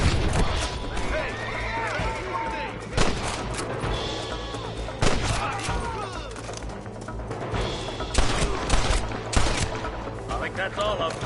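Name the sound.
gunfire in the video game Red Dead Redemption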